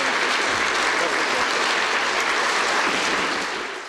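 Warm applause from an audience welcoming guest professors at the Sokół hall in Kraków, dense steady clapping filling the whole stretch and tapering slightly at the end, loud and close.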